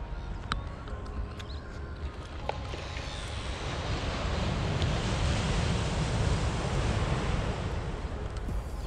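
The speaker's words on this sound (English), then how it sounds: "Crushing waves." Ocean waves crash onto a beach at Langebaan in West Coast National Park on a chilly morning, a steady roaring surf that swells louder partway through, with wind buffeting the microphone and no talking.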